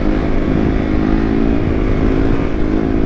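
A dirt bike engine runs loud and close in a steady, throaty low rumble with no clear revving peaks.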